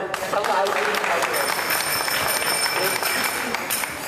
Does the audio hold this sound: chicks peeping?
no